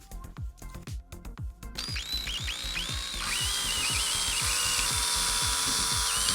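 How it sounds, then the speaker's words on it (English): A power drill with a straw-sized bit bores holes through plastic bottle caps: a run of sharp clicks and taps, then the motor spins up into a steady, high whine that holds to the end. "with a drill bit the same size as the straws to make the holes through the bottle caps"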